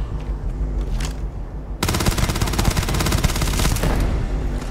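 Rapid automatic gunfire from a weapon in the space RPG Starfield, a quieter burst at first, then a loud, sustained rattling stream of shots that runs without a break over a game soundtrack.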